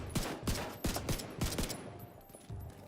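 Repeated gunfire in The Division 2 while shooting at an object, a string of sharp, evenly spaced shots, about eight in quick succession, each with a short echo, fairly close and alone.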